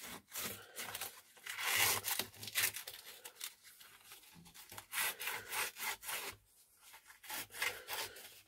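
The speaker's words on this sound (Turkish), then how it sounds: "Kutup başları biraz korozyona uğramış. Burayı zımparayla temizliyoruz." Sandpaper scrubs back and forth over the corroded terminals of a car battery, a steady rhythmic rasping that sounds near and fairly loud, with only brief pauses between strokes and no talking.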